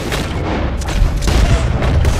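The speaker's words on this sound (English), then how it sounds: "We'll have to shoot our way out" Gunfire in the video game Red Dead Redemption 2 during a shootout at Litchfield, heavy booming shots blending into a dense, continuous barrage with no clear gaps between reports.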